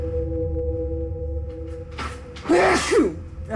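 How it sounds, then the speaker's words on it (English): A single loud sneeze bursts out after a quiet stretch with a steady background hum, preceded by a short sharp intake of breath. "So let me sneeze real quick."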